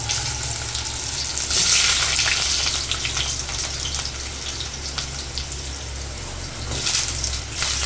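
Potatoes sizzle steadily in hot oil in a pan alongside slit green chillies, a dense continuous crackle with brief louder bursts as they settle into the oil.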